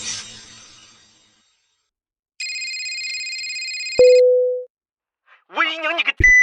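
One sustained, clear electronic phone ring sounds alone in a quiet room and is cut off by a short beep, followed by a brief voice.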